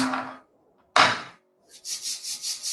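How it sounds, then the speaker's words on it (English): Hands rubbed together during a guided body-awareness relaxation session, giving soft broadband swishing strokes: a brief burst, a short pause, another louder stroke, then a run of quicker, lighter rhythmic rubs, close and alone with no talk. "rub your hands"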